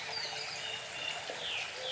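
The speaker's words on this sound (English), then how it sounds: "And then just listening to the birds singing" Faint bird song threads through a steady wash of trickling water in an ancient forest, with a few thin chirps and whistles rising above the flow.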